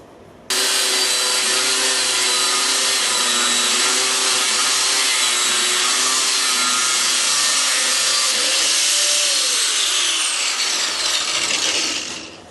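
A continuous loud, high-pitched grinding hiss of a 0.8 mm thin abrasive cutting disc slicing through metal, steady for about twelve seconds before winding down.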